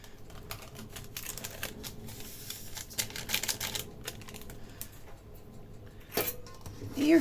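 Salt, sugar and vanilla sugar for Easter bread are mixed in a bowl, making rapid, close clicking and scraping of a utensil against the dish, steady throughout with a louder knock near the end.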